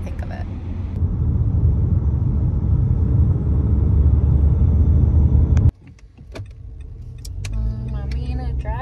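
A silver 2013 Nissan Altima on a test drive, steady engine and road rumble from inside the cabin that cuts off abruptly, followed by quieter interior clicks and movement.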